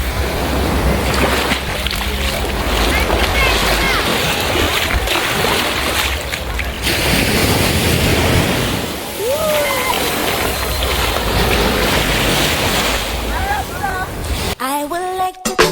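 Ocean waves and surf wash up onto rocks at a Tobago beach during high tide, a steady broadband roar with sloshing and splashing throughout, close and loud, with voices speaking faintly in places.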